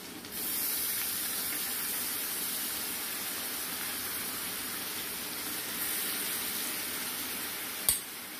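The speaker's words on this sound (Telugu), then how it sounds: "మటన్లోనే వాటర్ మొత్తం పోయేదాకా వేపేసుకోవాలండి." Mutton with ground onion paste fries in a pot on the stove, giving a continuous loud sizzle and hiss, ending in a sharp clank, with no voices.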